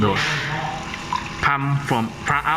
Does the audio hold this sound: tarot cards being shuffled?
no